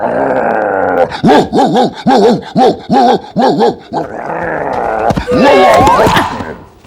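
A dog barks in a rapid run of about eight loud, close barks, then breaks into a rough growl that ends in a burst of harsher, noisier snarling.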